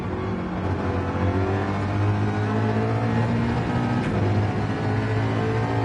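A Mustang race car engine at Spa in Gran Turismo 7, heard from onboard as a steady, loud, low droning roar held at high revs for several seconds without speech.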